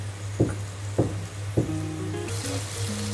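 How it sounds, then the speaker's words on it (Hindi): Masala with ginger paste roasts and sizzles steadily in a pan for chana masala, with three sharp knocks from a spoon against the pan near the start. "ये डाल के मसाले को अच्छी तरह भूनना है।"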